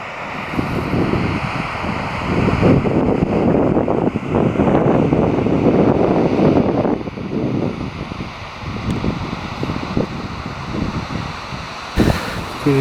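Strong storm wind in the Urals near a reservoir on the Nyazya River, a loud blustery roar buffeting the microphone in surging gusts, with no talk.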